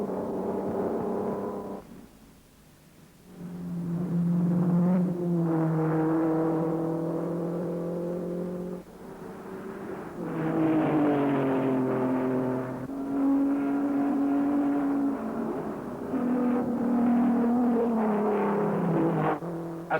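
1953 racing cars on the Swiss Grand Prix road circuit, a twisting course through woods past a quarry, sweep by one after another with droning, shifting engine notes, loud and sustained with rising and falling pitch.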